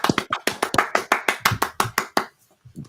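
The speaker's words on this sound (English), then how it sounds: "I'll give him the manual claps." Manual hand claps, about a dozen sharp, fairly close claps in a steady quick rhythm, then a pause and a brief soft sound at the end.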